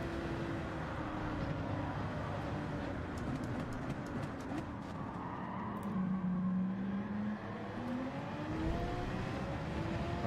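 A racing car engine in Gran Turismo 7 roars steadily as it runs down a straight alongside a Ferrari, its pitch climbing and shifting through gears in a loud, continuous drone.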